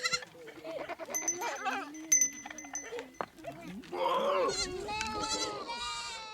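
Goats in a Samburu herd in the hills of Kenya bleat repeatedly, several wavering calls overlapping in the second half, moderately close, with faint clinking and a voice talking over the start.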